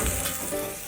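A large omelette cooking in a covered pan, giving a steady, close broadband sizzle that holds evenly throughout without any voices.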